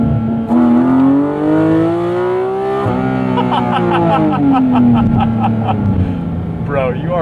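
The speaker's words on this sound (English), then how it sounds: "This is my buddy's new exhaust he got for his GT4 RS." A Porsche GT4 RS fitted with a new aftermarket exhaust revs hard up close, its loud flat-six rising and falling in pitch through two long sweeps, with crackling pops near the end.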